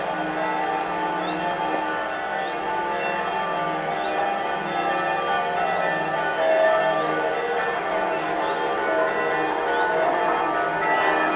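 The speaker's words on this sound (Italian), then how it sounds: "sentiamo le campane di Lauzzana appena partite" Evening church bells of Lauzzana, Italy, ring steadily in the distance, their tones blending and overlapping in a continuous, sustained peal with no voices.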